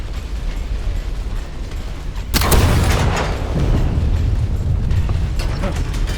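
Cannon shots fire in the steampunk extraction game Sand, with one heavy boom followed by a rumbling, crackling tail over steady mechanical background noise.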